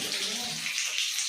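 Shower water runs steadily at low pressure in a bathroom, a continuous close hiss and spatter with no voices.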